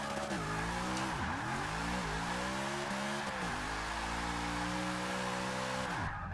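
Engine of a drifting car in the video game Forza Motorsport 6 revving and shifting, with tires squealing steadily as it slides sideways through repeated flicks, loud and continuous.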